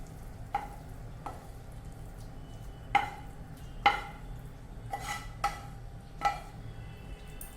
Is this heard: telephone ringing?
no